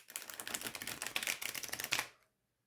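A cardstock tarot deck, the Nicolas Conver Tarot de Marseille, gets riffle shuffled: a rapid ripple of crisp card flicks running for about two seconds, close up, then stopping dead into silence.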